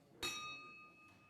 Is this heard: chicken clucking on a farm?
no